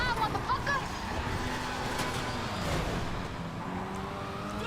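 A car engine driving in GTA Online, a loud rough revving and passing roar with shifting pitch, heard under people talking.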